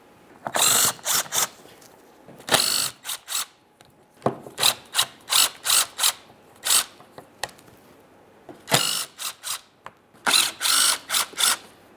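A ratchet backs out 10mm mounting bolts on a shield panel of a 2013-2020 Ford Fusion 2.0L during radiator replacement, giving close bursts of rapid clicking separated by short pauses, with no talking.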